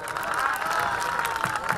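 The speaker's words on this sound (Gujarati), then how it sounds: "એક વખત જોરદાર તાળીઓથી વધાવો મારા બાપ." An audience at a live Gujarati comedy show claps steadily, a dense, even patter of many hands with faint cheering and voices mixed in.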